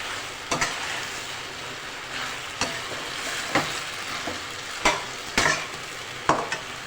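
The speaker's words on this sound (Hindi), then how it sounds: "हरी मिर्चें डाल के हम इसकी भुनाई करते हैं।" Potatoes, spring onions and green chillies fry in a pan with a constant close sizzle, punctuated by sharp scraping knocks from a spoon stirring at irregular intervals.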